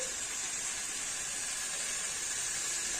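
Water with garam masala poured into a hot pan for Bengali mochar ghonto, giving a steady, even hiss of steam and sizzle that stays at one level throughout with no talk.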